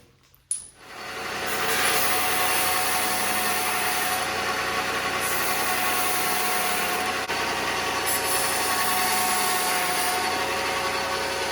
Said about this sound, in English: we need to grind a little bit off of this one here